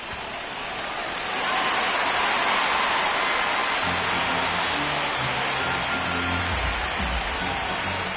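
Steady rain hisses across a ballpark during a video game baseball match, a broad, even wash that swells after the first second and continues under low crowd murmur and faint background tones.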